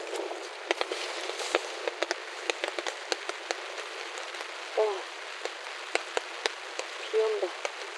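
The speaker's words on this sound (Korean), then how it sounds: "비 온다." Rain falling at a campsite at Mongsanpo beach campground in Taean, with steady patter on a tent or tarp and scattered sharp drops. A few brief whooping or sliding sounds stand out near the end.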